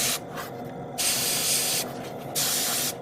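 Spray paint hisses onto a 1/72 scale plastic model kit in two long, close bursts of bright, even hiss with short quiet gaps between them.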